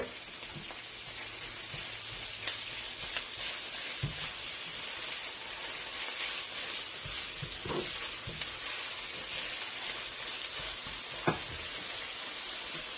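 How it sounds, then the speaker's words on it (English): Salted fish frying with onions in a pan for Jamaican ackee and saltfish, a quiet, even crackling sizzle like light rain that runs throughout, with occasional faint knocks. "my next step is adding the salted fish to all of that"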